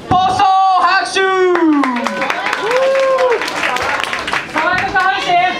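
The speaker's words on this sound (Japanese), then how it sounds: "爽やか拍手" Applause and clapping from a party crowd after a dance showcase at a squat party, mixed with loud whooping, tonal shouts and cheering voices that ride over the claps.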